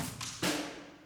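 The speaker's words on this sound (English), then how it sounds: "Snare flams." A quick snare drum flam programmed in FL Studio: a soft grace hit followed a fraction of a second later by a louder main stroke with a short buzzy tail, faint and alone.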